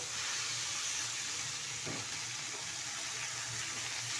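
Water spinach with a small onion and green chillies sizzles in a hot wok, a steady, soft, continuous hiss of frying with no voices.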